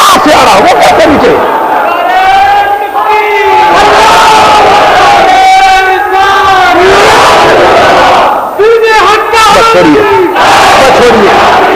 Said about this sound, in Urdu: ولی ولی یہ آپ کے نعرے ہیں